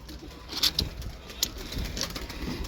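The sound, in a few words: pigeons cooing in a loft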